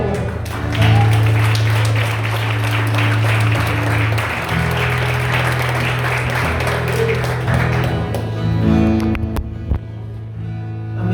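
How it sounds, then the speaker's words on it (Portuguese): A church congregation applauds in praise during a sermon, steadily for several seconds, dense and continuous, with a low hum underneath, fading out at the end. "As palmas do louvor ao Senhor."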